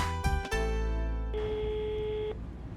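A phone rings with an incoming call, sounding as a few electronic tonal beeps followed by a longer sustained tone, clear and fairly close, with no one speaking.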